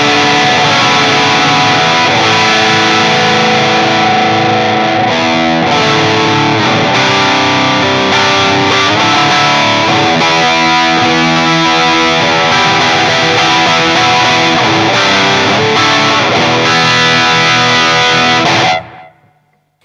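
Loud, heavily distorted electric guitar chords played through a Mesa Boogie rig ring out continuously, sustained and full, before cutting off abruptly at the end.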